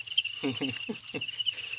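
Farmed crickets on a Thai cricket farm keep up a steady, shrill chirping drone, with a few soft low pulses breaking in, close and clear.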